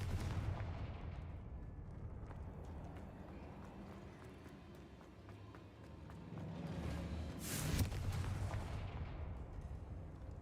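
A fiery Confringo blasting spell goes off in the Hogwarts Legacy video game, with a sharp burst partway through over faint, rumbling game noise.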